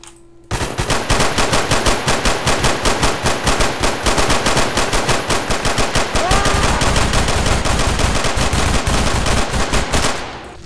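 Rapid, continuous automatic gunfire from the video game DayZ (MTA), loud and sustained for about ten seconds in dense bursts, with no talking.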